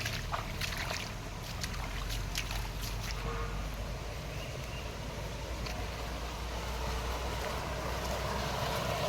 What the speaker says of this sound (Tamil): எல்லா செடிக்கு இந்த வழியில் போயிட்டு இருக்கு பம்பு செட்டு